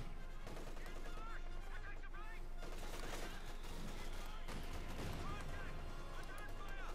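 Rifle and machine-gun fire in a Company of Heroes 2 battle, with a BAR and light machine gun, rattles in dense continuous bursts and scattered shots throughout while a commentator talks over it.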